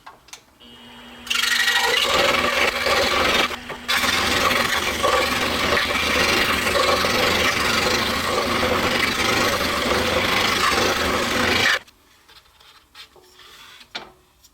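A saw fitted with a number 7 reverse tooth blade cuts through wood for a Halloween door decoration, a loud, steady rasping buzz that runs continuously for about ten seconds with one brief pause before stopping.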